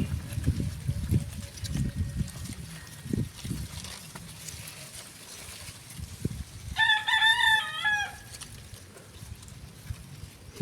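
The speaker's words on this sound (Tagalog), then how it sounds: "Nagano na yung manok dyan." A rooster crows once, a clear mid-distance cock-a-doodle-doo lasting about a second, amid outdoor rustling and low thumps, with people talking faintly in the background.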